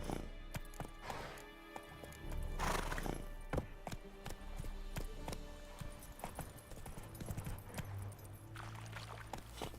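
Horse hooves clip-clop steadily through the open-world video game The Witcher III, with neighs and whinnies rising over a busy, continuous game soundscape, close and fairly loud throughout.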